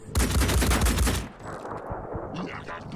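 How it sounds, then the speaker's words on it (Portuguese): Rapid bursts of automatic gunfire in the video game Phoenix Point rattle loudly for about a second, then give way to scattered fainter shots and background noise. "eles estão atirando numa mina"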